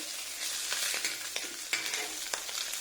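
Fish frying in a pan: a loud close crackling sizzle with sharp spits and a few stirring scrapes across the short stretch.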